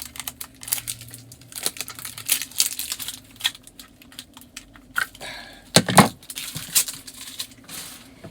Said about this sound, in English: I'll use this opportunity to load a tape gun